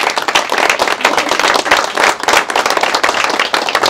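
A church congregation applauds newly installed board members at a board installation ceremony: many hands clap in a continuous, even burst that fills the room for several seconds.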